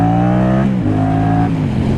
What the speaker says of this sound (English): It is an IXL L3XB hyper low exhaust with the baffles removed and titanium heat wrapped.